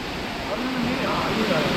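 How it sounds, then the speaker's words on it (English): Elaneeru or Soormane Falls near Kalasa in Chikmagalur pours with a loud, steady rushing roar that fills the whole moment, while a faint voice sits buried beneath the water. "So this is how the waterfalls looks like."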